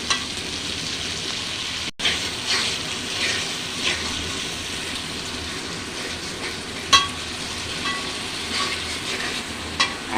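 Spice paste with chili sizzles in a pan while a rui fish dish is cooked, a continuous soft crackling fry with occasional stirring clicks and scrapes.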